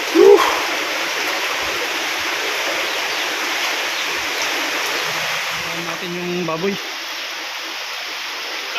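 Continuous rushing flood water flows steadily throughout on a farm, with a short voice near the start and a murmur of talk near the end.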